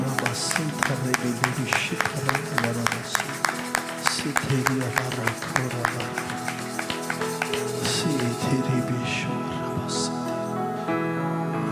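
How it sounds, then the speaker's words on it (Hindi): Congregation clapping loudly during a church worship service in Sharjah, a dense run of hand claps with some rhythmic beats, heard alone without talk. "हम जोरदार तालियां बजाएंगे खुदा के पाक रूह के लिए।"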